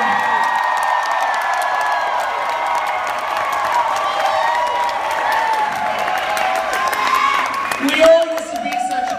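A seated audience at a drag show cheers, whoops and applauds steadily, a loud crowd roar filling the whole stretch with voices shouting over it.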